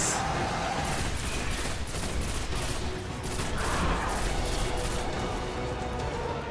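Sustained heavy gunfire and explosive impacts from Destiny: The Taken King fill the fight against Oryx, continuous rattling bursts at close range, with faint talk in the background.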